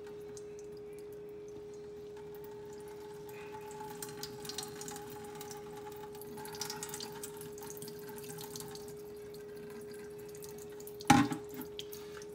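Rainwater poured over a potted indoor orchid trickles and drips softly, with a low faint gurgle and one sharper splash or knock near the end, over a steady background hum.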